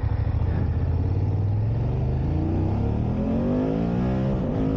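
A 2019 BMW GS 750 motorcycle, Euro 4, revs hard and close, its engine note climbing steadily in pitch over several seconds as it accelerates, loud and continuous with no talking.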